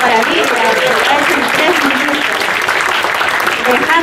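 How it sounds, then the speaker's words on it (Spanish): Audience applause at a startup reverse-pitch event in Peru, steady and dense across the whole stretch at even loudness, with a voice faintly underneath. "Un aplauso para mí"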